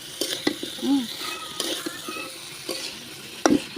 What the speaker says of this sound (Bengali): এখন মূলাটাই যে দিয়ে দিচ্ছি, সুন্দর করে ঢেলে দিয়ে নিলাম